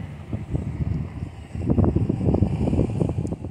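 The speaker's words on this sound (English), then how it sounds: "The wind is blowing." Wind blows outdoors in a cemetery, gusting as low rumbling buffets against the microphone and growing stronger halfway through.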